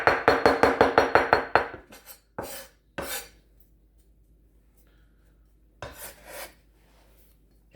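A cleaver chops smashed garlic on a cutting board in a home kitchen, with a fast run of about a dozen sharp, close knocks, then a few isolated chops separated by quiet pauses.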